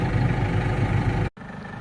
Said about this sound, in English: We're gonna go shut the tractor off